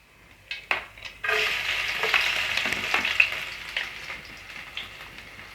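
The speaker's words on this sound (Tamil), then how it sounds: "எண்ணெய் சூடாயிடுச்சு. இப்போ நம்ம சோம்பு சேர்த்துப்போம். இது கூடவே நம்ம நறுக்கி வச்ச பூண்டை சேர்த்துப்போம்." Fennel seeds and chopped garlic hit hot oil with a few sharp pops, then a dense, even sizzle spreads out and crackles on nearby, with no voices.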